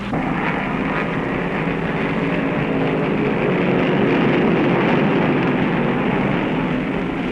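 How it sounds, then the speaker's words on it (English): Late-1960s stock cars, including a Plymouth, racing at over 140 mph in the 1968 Rebel 400, a loud continuous engine roar with broad crowd-like wash and no break. "For 50 laps, at speeds of more than 140 miles an hour, David Pearson and Richard Petty show the fans what automobile racing is all about"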